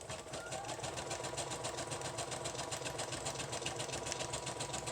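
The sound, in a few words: sewing machine zigzag stitching lace onto page edges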